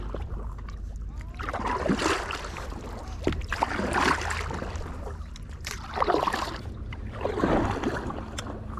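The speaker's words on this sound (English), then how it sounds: "Sit down paddleboarding." Seated paddleboard strokes on a river, about four slow, evenly spaced splashing pulls close by, with water swishing and light wind between them.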